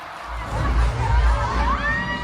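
A crowd of prize contestants shouts and cries out together, loud and close, in a dense, continuous wash of voices and cheering-like noise that runs throughout.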